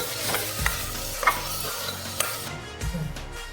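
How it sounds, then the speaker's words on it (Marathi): Washed rice being sautéed in a pan for soft Marathi khichdi, with steady frying sizzle and several scraping stirs of a spoon against the pan, close and clear with no talking. "स्वच्छ धुतलेला तांदूळ तो टाकून घेऊया त्याच्यामध्ये आता छान परतून घ्यायचे"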